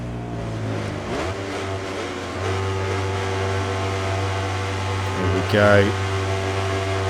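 A game Aprilia racing motorcycle roars off the starting line under an illuminated racetrack, its engine note climbing steadily and surging louder near the end, with a voice speaking briefly over it.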